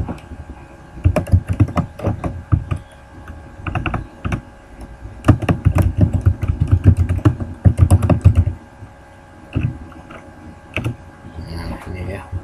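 Fingers type on a computer keyboard while working in Microsoft Access, producing close, irregular bursts of clacking keystrokes with brief pauses and a few separate key taps.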